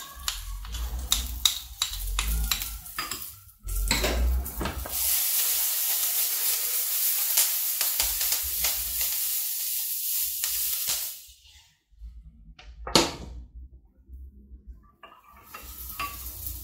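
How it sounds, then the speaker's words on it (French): Cornstarch paste being mixed into milk in a pan for Brazilian estrogonofe, close scraping and clinking stir strokes with a steady hiss, then a quiet gap and a final clatter. "fais une petite pâte à côté et après je le mélange avec le lait"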